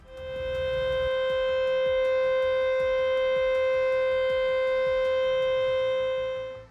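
A French Polynesian siren warning of nuclear tests holds one steady, loud, unbroken tone throughout, with faint irregular clicks and crackle underneath and no voices.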